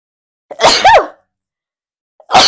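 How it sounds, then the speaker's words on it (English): A person sneezes twice in quick succession, loud and close, then pauses in silence before a third sneeze begins at the end. "Goodness, 3 sneezes."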